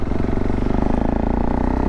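Motorcycle engine running steadily during a ride, a close, continuous mid-pitched drone with a slight rhythmic pulse, loud and unbroken with no talking.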